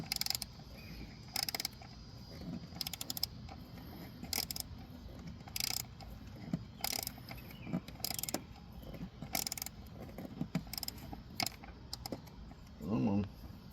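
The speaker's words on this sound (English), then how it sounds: "I love the sound of a quality ratchet." A ratchet wrench tightens the MAP sensor on a Chevy Sonic, giving faint bursts of ratcheting clicks at an uneven rhythm with brief pauses between strokes.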